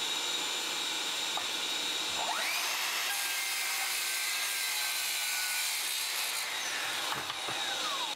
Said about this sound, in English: so I'm just going to grab the miter saw and chop that off